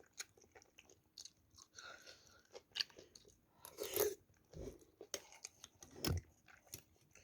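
Close, quiet chewing of curry eaten with green onion kimchi, made up of soft wet mouth sounds with irregular crunchy bites scattered through, with no talking over it.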